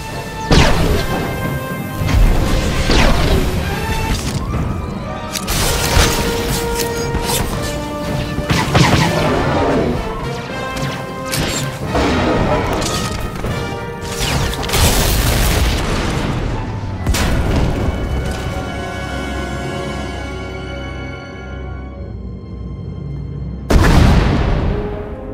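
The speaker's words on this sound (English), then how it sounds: "We heard explosions. The tunnel collapsed." Loud booms, crashes and rumbling debris from explosions and a tunnel collapse in the Star Wars: The Old Republic video game, mixed with a dramatic musical score and continuing in waves throughout.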